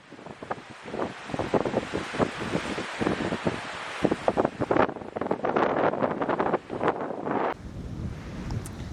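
Strong, blustery wind buffets the microphone beside Lochindorb, a Highland loch, in a loud continuous roar with gusting surges and no talking.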